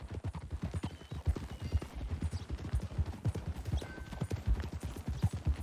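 Horse hooves clip-clop in a steady, rhythmic gait within the Red Dead Redemption 2 game world, fairly soft and continuous with no voices over them.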